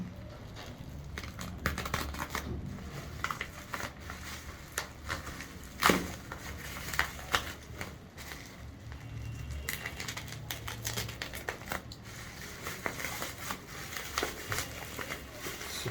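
UGREEN gadget packaging, including boxed earbuds ordered from Daraz, being opened up close, with scattered crinkles, rustles and small taps and clicks at a fairly quiet level.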